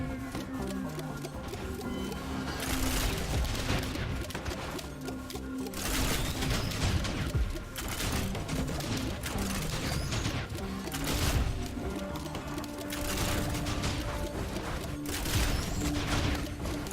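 Engineer turrets in Risk of Rain 2 fire nonstop while Brilliant Behemoth explosions burst, dense rapid game gunfire and blasts in loud repeating waves over a constant backdrop.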